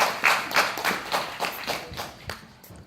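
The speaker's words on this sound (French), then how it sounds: "on peut commencer par des applaudissements pour les 4 principaux organisateurs de cette rencontre" A small audience at a citizens' meeting in Conches-en-Ouche claps for the event organizers, a sparse, uneven patter of individual hand claps close by that thins out over a few seconds.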